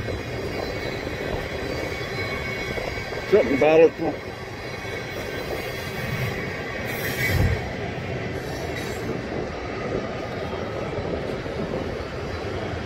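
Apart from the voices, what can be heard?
freight train passing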